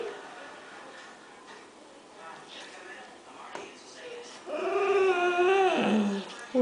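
A puppy whimpers and whines in high, wavering cries that grow louder toward the end, with faint background noise before.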